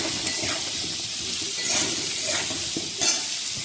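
Potatoes and large turmeric-coated prawns are stirred while frying in a pan, giving a loud, continuous sizzle with a few scraping stirs breaking through.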